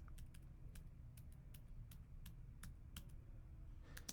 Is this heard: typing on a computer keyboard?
yes